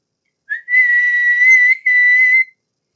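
A shrill, steady train whistle blast rings out twice, the long first burst breaking briefly before a second one, loud and close with nothing else around it.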